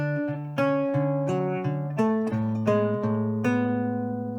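A short acoustic guitar figure from a song: single plucked notes ring and overlap in a steady, unhurried melodic line, close and clear, with no voice over it.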